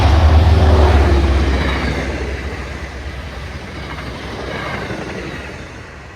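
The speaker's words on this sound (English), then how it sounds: "an MBTA commuter train graces the scene westbound" An MBTA commuter train on the Northeast Corridor passes close by heading west, a loud low rumble and rolling wheel noise that gradually fades as it moves away.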